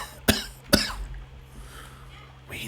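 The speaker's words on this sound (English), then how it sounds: "The chuckling becomes a cough." Two sharp coughs from a character in the game Sunless Sea, about half a second apart, then quiet with a faint breathy sound near the end.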